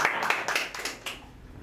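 An audience at a stand-up comedy show claps in a brief, thin patter of separate hand claps, several sharp slaps that taper off within about a second, with no voices.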